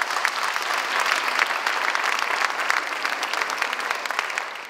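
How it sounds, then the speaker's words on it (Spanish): An audience at a Teachers' Day school ceremony breaks into a sustained round of applause, many hands clapping in a thick, steady wash that tapers slightly at the end. "Un fuerte aplauso también para los chiquillos del canal por su trabajo."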